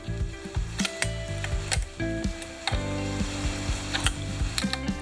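A wrench turning to tighten a license plate screw: a steady run of ratcheting clicks in uneven bursts, close and fairly loud, with no talking.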